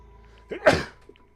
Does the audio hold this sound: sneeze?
yes